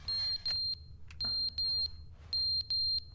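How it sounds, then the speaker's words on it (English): A video game smoke alarm sounds in piercing high beeps, grouped in repeating bursts of three, loud and close over a quiet background. "Why is that smoke alarm going off?"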